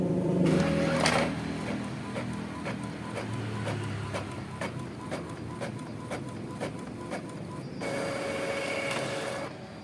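A printer runs steadily, its mechanism whirring with a regular series of clicks and feed noises, close by and continuous for the whole stretch.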